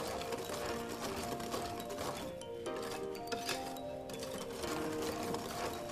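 Vanilla cupcake batter being mixed smooth to remove lumps, with a steady whirring machine drone and occasional clinks of a bowl, continuous and close throughout.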